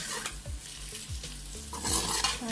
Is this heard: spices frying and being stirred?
yes